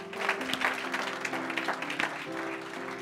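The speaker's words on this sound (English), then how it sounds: "If you want to clap for Jesus, clap for Jesus." A church congregation claps during a sermon, a moderately faint patter of many hands with a few sharper individual claps, steady throughout under a low sustained tone, with no speech on top.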